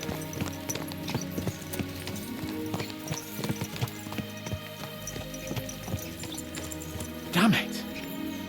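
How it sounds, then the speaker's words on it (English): Horse hooves clip-clopping at a brisk, rhythmic gait in the video game Kingdom Come Deliverance 2, layered over a faint musical drone, with a short loud horse whinny near the end. "Let's really spur these horses on, eh?"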